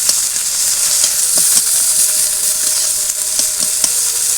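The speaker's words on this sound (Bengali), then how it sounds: "বন্ধুরা এইভাবে একদিন বেগুন ভাজা করবেন" Eggplant slices frying lightly in a pan of oil for a Bengali fish curry meal, with a close, continuous sizzle and a few soft scraping stirs, no one speaking.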